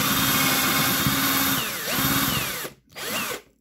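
A power drill with a 3 mm bit whirs up, bites through a trouser belt with a brief grinding load, then winds down and spins again briefly before stopping.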